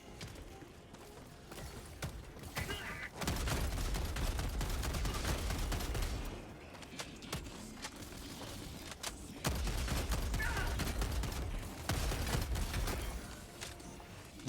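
Rapid gunfire from a weapon in the video game Helldivers 2, loud sustained bursts of shots with heavy low-end booms, separated by brief quieter gaps.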